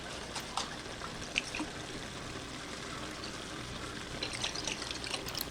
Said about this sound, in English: I am going to just add a little bit of water to get the rest of the sauce out.